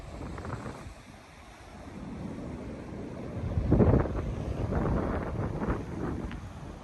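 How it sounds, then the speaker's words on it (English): Ocean waves washing in at a pier on Wrightsville Beach, North Carolina, with the tide coming in; a continuous soft surf wash that swells and fades, overlaid with steady wind buffeting the microphone. "Tide appears to be coming in."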